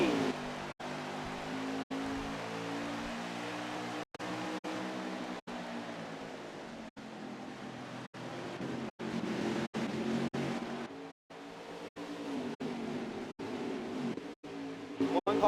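Race cars in a stock-car racing video game roar away at the green flag at Gateway, a steady engine drone with layered revving tones, repeatedly cut by brief gaps.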